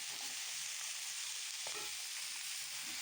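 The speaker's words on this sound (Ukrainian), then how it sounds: "Будемо її мішати і дивитися" Carrot and liver fry in a pan while being stirred, a steady broad sizzle with faint scraping of the utensil, close and continuous with no talk.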